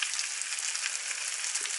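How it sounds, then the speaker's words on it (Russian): Ham, blood sausage and onion fry together in a pan, giving a steady, dense sizzle with no pauses throughout the short stretch. "Пока обжаривается ветчина,"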